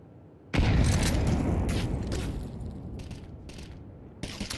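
Flashbang grenade going off in Counter-Strike 2 during a competitive match: one sudden loud burst that rings out and slowly decays, followed by faint clicks and a small thump near the end.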